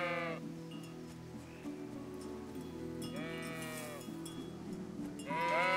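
Sheep in Kingdom Come: Deliverance bleat repeatedly, with several distinct wavering bleats rising over a steady droning in-game ambience, fairly close and clear with no talking.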